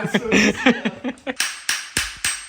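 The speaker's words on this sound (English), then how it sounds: "I love that you're just using that tiny hammer" A tiny hammer taps during the build of a Specialized S-Works Epic 8 bike, with people talking at first, then four sharp, close metallic knocks spaced about a third of a second apart.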